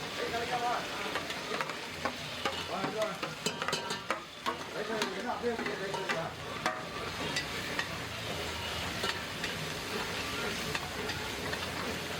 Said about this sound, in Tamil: இப்போ இந்த புதினா அரைச்சி வச்ச புதினா இப்போ இதில் ஊற்றி நம்ம கிண்டிடலாம்